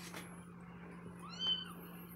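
A kitten gives one short, thin, high meow midway, faint and close, over a quiet background hum.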